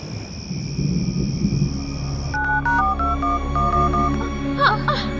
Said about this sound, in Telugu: ఫోన్ అదే డయల్ అవుతుంది